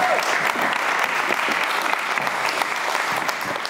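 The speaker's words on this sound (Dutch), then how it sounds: "Een applaus." Loud, continuous applause from an audience at a creative-industry event, a thick wash of many hands clapping at an even level from start to finish, with no talk over it.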